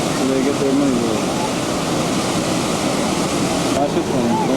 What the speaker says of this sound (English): the whole state, provide the water for the Great Falls waterfalls